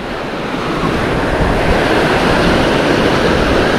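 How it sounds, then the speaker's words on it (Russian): Sea waves and surf rolling in on the beach at Anapa, a steady loud wash of breaking water with wind buffeting the microphone throughout, no voices. "Блин, эти волны."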